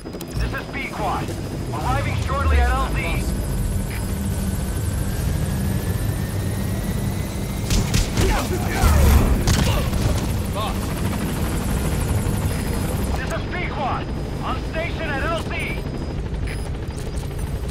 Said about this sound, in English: go ahead and call the chopper from your eye